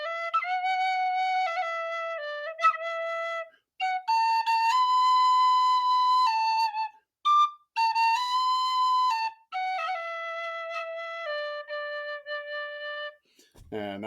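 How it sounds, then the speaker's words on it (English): Penny whistle playing the slow ballad Sally Gardens: clear, pure sustained notes in a flowing melody with short breaths between phrases, played solo and close. "the first tune I learned was Sally Gardens, which is a real pretty ballad, which is really not supposed to be played on the penny whistle"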